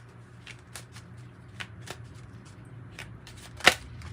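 Tarot cards being shuffled with soft riffling and scattered flicks, ending in one sharp snap near the end, with a low hum underneath and no talking.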